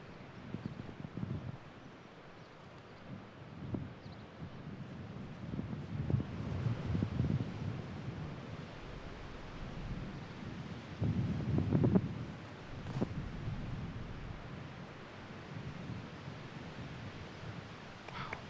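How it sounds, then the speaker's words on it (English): Strong wind gusts across an open disc golf course during a tournament round, a steady buffeting roar that swells and eases in waves, rough and fairly loud, with no talk. "Really fighting against the wind."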